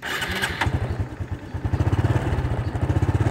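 A Honda Supra X 125 underbone motorcycle starts up and idles. A loud, close, pulsing engine chug comes with a loose rattling from the plastic headlight cowling, and the beat grows steadier and more regular as it settles.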